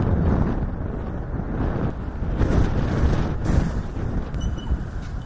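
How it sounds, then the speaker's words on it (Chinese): Strong southwest wind gusts along a city avenue in Changchun, buffeting the microphone with loud, continuous low roaring rumble that swells and eases in waves, with no voices. "那通过画面可以感受到此刻的风力是比较大的"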